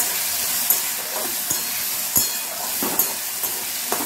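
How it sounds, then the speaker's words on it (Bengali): Potatoes with leafy greens and a pinch of turmeric sizzle steadily in a hot pan, with scraping clicks and knocks from stirring cutting through the constant frying hiss. "খুব সুন্দর করে এটাকে যখন ভাজা ভাজা এরকম করে নিচ্ছি"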